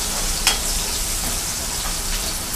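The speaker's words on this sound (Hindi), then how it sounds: "फिर इसमें प्याज, थोड़ी सा ये भून लेते हैं पहले" Onion fries in hot oil for a potato, pea and carrot dry curry: a close, steady sizzle with one brief clink near the start.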